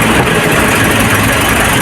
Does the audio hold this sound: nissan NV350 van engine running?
yes